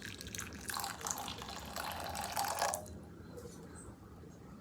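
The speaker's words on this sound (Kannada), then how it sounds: "ಬಿಸಿನೀರು ಹಾಕ್ಕೊಳ್ತಿದ್ದೀನಿ" Hot water pours steadily into a vessel to make coffee decoction, a close, splashing gush lasting about three seconds before falling quiet.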